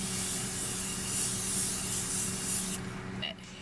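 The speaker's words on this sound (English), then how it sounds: "I am going to take my Morphe Continuous Setting Mist and just..." Morphe Continuous Setting Mist sprayed onto a made-up face: a close, continuous hissing spray lasting about three seconds, then cutting off with brief faint rustling.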